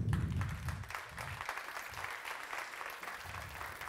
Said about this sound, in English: So please, let's give her applause.